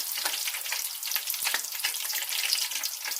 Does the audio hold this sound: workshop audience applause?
no